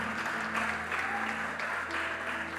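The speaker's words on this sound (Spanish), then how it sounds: "Yo le daría un fuerte aplauso, Señor." Church congregation at a sermon applauding, a faint, even patter of many hands clapping continuously in a reverberant hall, steady and low in level from start to finish.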